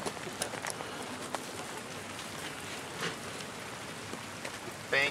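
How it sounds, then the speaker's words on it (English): Steady rain falls and patters on surfaces nearby, a continuous soft hiss with scattered drop taps and no talking. "This rain doesn't want to stop."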